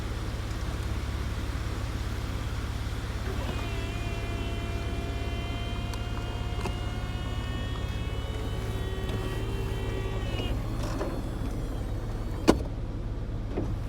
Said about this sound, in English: I've got the emergency brake up so that I can push the button and show you the top going up